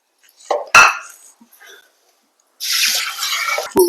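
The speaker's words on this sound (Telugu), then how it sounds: "పప్పును రెండుసార్లు శుభ్రంగా కడుక్కుందాం" Lentils are rinsed in water in a kitchen: a few short drips and splashes, then a longer burst of sloshing water as the grains are swirled and washed, heard close up.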